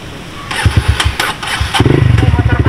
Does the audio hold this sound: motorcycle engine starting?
yes